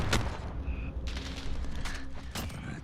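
Frag rifle fire in Call of Duty Modern Warfare: several sharp gunshots with booming tails spaced across the stretch, mixed with faint mechanical clicks and game effects, fairly loud and up close.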